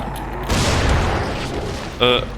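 A loud explosion in the zombie game Dying Light bursts in with a heavy low boom and rumbling debris that fades over about a second, followed by a brief sharp tonal game sound.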